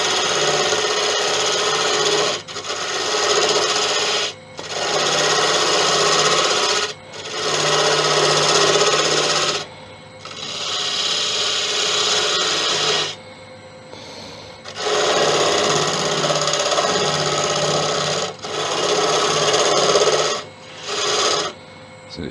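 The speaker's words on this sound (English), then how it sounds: "Grab a spindle gouge, start her up, and just start taking this away." Wood lathe spinning a tigerwood box blank while a spindle gouge cuts it, a steady raspy scraping in long passes broken by brief pauses, close and loud.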